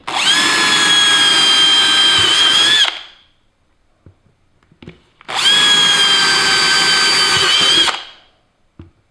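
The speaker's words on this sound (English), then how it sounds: "I'm going to drill holes inside this area right here" Power drill boring holes into wall studs to mount a TV: two loud, steady whining bursts of about three seconds each, close up, with a short quiet gap and faint knocks between them.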